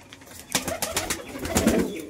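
Indian Giribaz pigeons coo in a loft during the winter breeding season, a few soft throaty coos rolling one into another at close range over a low background murmur.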